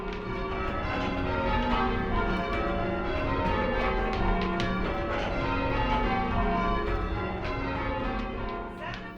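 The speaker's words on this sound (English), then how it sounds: "So the Old North Church has some of the oldest bells in North America." Old North Church bells, cast in 1744, ringing in a dense overlapping peal, strikes tumbling one after another at a steady pace throughout.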